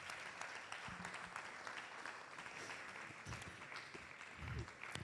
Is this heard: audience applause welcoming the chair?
yes